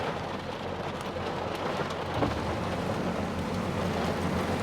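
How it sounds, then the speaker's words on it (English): Steady rain falls outside in Charleston, an even, dense hiss of drops on surfaces that continues throughout with no voices. "Just raining out there."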